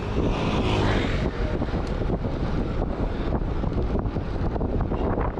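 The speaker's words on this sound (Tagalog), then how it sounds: "Grabe ka hangin." Strong wind roars continuously at a hilltop view deck, buffeting loudly and close with heavy rumbling gusts throughout.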